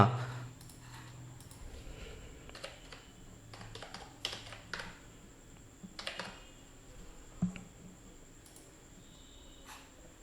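Keys on a computer keyboard are typed in short irregular bursts of light clicks, close and fairly quiet, over a faint steady hum with no talking.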